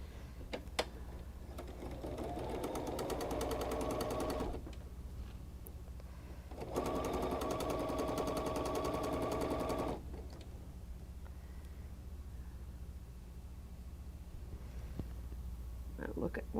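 Sewing machine stitching a quarter-inch quilt seam with a quarter-inch presser foot, two steady whirring runs separated by pauses, close up in a quiet room with someone speaking softly.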